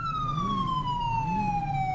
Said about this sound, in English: You can turn your siren off on your own scene.